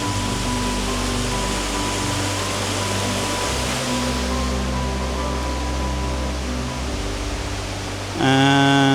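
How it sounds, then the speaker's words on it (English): A waterfall in Wicklow roars as a steady, loud broadband rush from close by near its base, with a low hum beneath and a brief tonal beep-like sound at the very end. "up towards the waterfall, the face of the waterfall."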